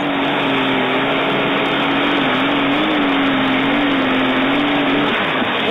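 A pulling tractor from a Wilmington, Ohio stable launches off the line at a night pull, its engine roaring loud and sustained with a steady whining pitch and tremendous wheel speed, no talk over it.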